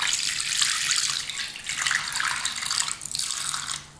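Water pours steadily into a cooking pot while a chicken dish is being made, a continuous close splashing rush lasting about four seconds with no talking.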